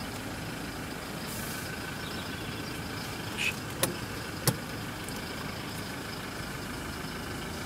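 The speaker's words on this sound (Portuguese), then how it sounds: "Esse barulho do motor é muito massa." A pickup truck with a sequential automatic gearbox runs with a steady, loud engine drone, a few brief clicks and knocks rising over the constant hum, with no talking.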